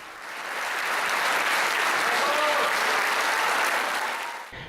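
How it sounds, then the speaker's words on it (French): Sustained, dense applause from an audience celebrating a choir's 20th anniversary, a full thunderous ovation holding steady for several seconds before cutting off. "en cadeau, ils leur ont offert un tonnerre d'applaudissements"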